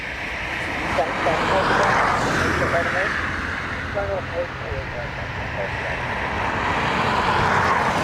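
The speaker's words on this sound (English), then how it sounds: "Logan Air ERJ to Aberdeen." A Loganair ERJ jet takes off from Dublin Airport bound for Aberdeen, its engine roar building into a broad, loud rumble that swells toward the end, while a voice talks intermittently over it.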